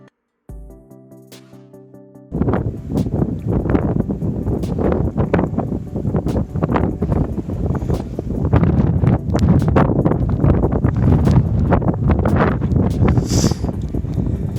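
Strong wind buffets the microphone on an exposed backpacking trail in the Dolly Sods Wilderness, a loud continuous roar with gusty surges after a brief quieter opening.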